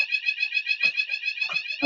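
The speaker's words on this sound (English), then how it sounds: "we've got a fire alarm here, would you believe? So we're going to have to vacate the building" A building fire alarm sounds a loud, piercing, rapidly pulsing electronic tone that repeats steadily throughout, with faint thuds underneath.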